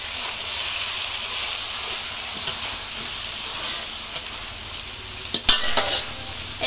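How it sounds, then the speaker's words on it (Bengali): Cooked rice, being made into homemade fried rice, sizzles steadily as it is stir-fried in a pan, with a constant hiss broken by a few scraping clinks of the spatula toward the end. "এই ভাতগুলো দিয়ে আমরা অল্প অল্প ভেজে নেবো, বেশি ভাজবো না, অল্প ভাজবো"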